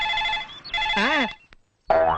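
An electronic phone ringtone plays in repeated melodic bursts, pauses briefly, then starts ringing again, loud and close.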